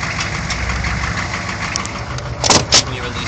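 Car engine idling steadily with a clutch fault, a continuous low rumble with two short hissing, grinding bursts near the end.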